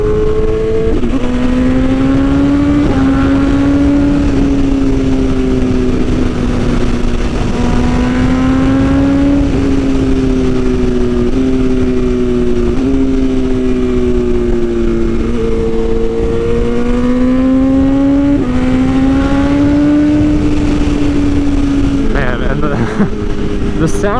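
BMW S1000RR sport bike fitted with an Austin Racing exhaust, ridden on Texas roads, its engine note loud and continuous, rising and falling in pitch through gear changes.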